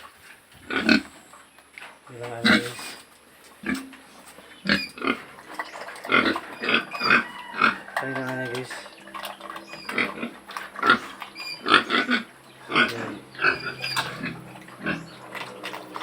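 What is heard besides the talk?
pig oinking at a lechon pig seller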